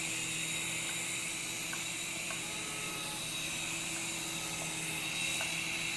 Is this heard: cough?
no